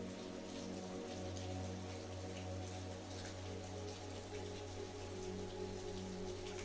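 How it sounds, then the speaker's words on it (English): Rain patters steadily against a surface like a window, a soft continuous tapping over a low, constant hum. "The sound of raindrops tapping against the window pane provided a soothing backdrop"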